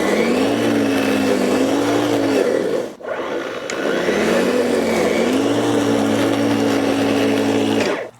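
WORX 40V 14-inch cordless lawn mower WG779 cutting grass with the blade set too low, a loud close whirring motor that bogs and dips in pitch, briefly cuts out, then restarts and labours again.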